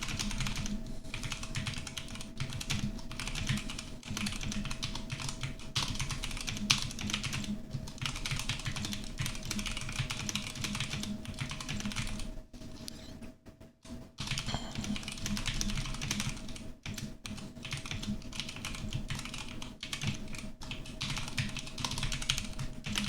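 Continuous computer keyboard typing in a typing game, dense fast clattering keystrokes close up over a steady background hum, with a brief pause partway through.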